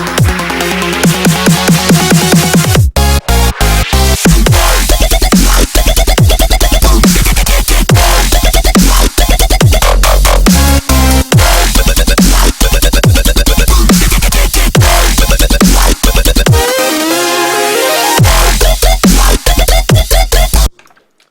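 Electronic track built entirely from Serum synthesizer presets, mostly heavy bass with chords and leads, plus added drums; loud, dense and continuous with punchy hits and brief drops, ending abruptly.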